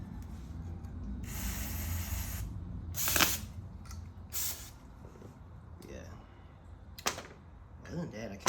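Several bursts of aerosol spray hit a carburetor on a 2009 Kawasaki Ninja 250 during a rebuild, short loud hisses with gaps between them and quieter handling sounds in the pauses.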